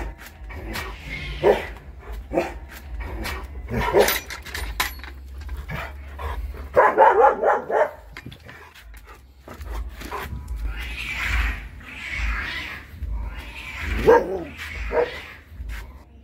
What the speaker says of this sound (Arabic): بنبص لقينا الكلب ريكس زي ما يكون بيدور على حاجه وبيجري ورا حاجه